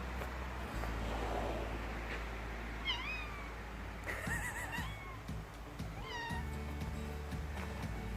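A cat in a screen room meows several times, rising, drawn-out calls spaced a second or two apart, fairly close, over a low rumbling background.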